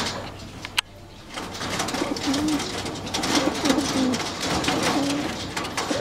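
Pigeons in a DIY loft cooing softly and repeatedly over a dense background of fluttering and bird noise, after a single sharp knock near the start.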